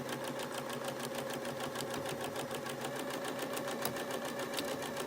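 Sewing machine stitching a quilt block, a steady close mechanical whir with a fast even rhythm of needle strokes running throughout, no talking.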